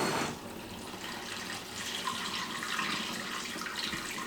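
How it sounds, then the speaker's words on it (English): Water running steadily from a tap into a glass half-gallon jug of almond milk, a continuous close rushing and gurgling fill with no talk. "I go ahead and fill this up with water to complete the full half-gallon."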